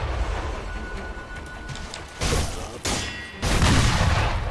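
Enemy gunfire in the video game Sekiro: heavy booming bursts of shots, three loud blasts in quick succession over a rumbling battle background, close and forceful.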